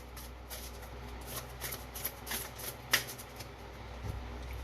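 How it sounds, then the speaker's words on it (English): A deck of oracle cards is shuffled by hand, a soft riffling and flicking of card stock close up, with light taps and one sharper snap, continuous and fairly quiet with no talk. "One last little shuffle"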